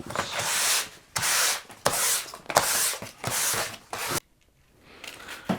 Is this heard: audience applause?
no